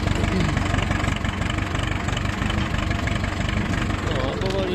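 An Ursus C-360 tractor engine chugs steadily and loudly throughout, driven slowly over a field being readied for ploughing, with a continuous low rhythmic rumble and no break.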